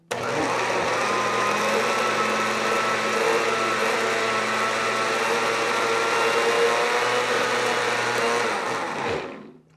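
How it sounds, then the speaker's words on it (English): A blender purees a carrot cake overnight oatmeal mixture in a lidded jar, a loud continuous whirring roar that holds steady for about nine seconds before cutting off. "It's going to get a little noisy, but we're going to puree that mixture."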